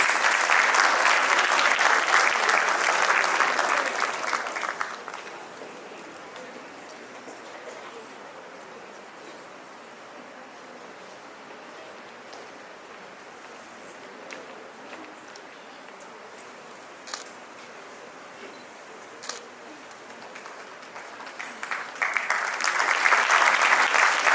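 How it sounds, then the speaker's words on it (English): Audience at an army welfare education society debate and awards event applauds the best speaker: a loud burst of clapping for about five seconds, a long quieter stretch with scattered faint claps, then the applause swells again at the end. "Let's applaud her efforts."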